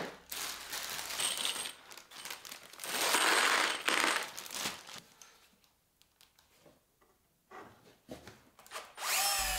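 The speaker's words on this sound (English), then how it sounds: "So the first one just gets screwed into place from the inside." A cordless drill drives screws to fix a garden workbench leg in place from the inside, with bursts of whirring and pauses filled by small clinks and rattles of screws and parts, close and fairly loud.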